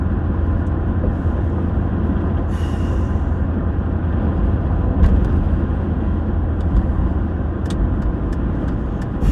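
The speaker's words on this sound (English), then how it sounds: "there goes the fuel truck" An airport fuel truck driving past, a loud continuous low rumbling engine drone with road noise, steady throughout with a few faint clicks over it.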